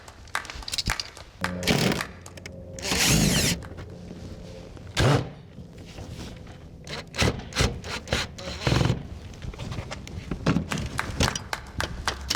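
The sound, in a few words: removing a house vent cover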